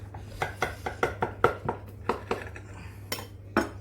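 Vegan spanakopita being cut into six portions in a baking dish, with a series of sharp knife-on-dish clinks and taps in an irregular rhythm, close by, over a low steady hum.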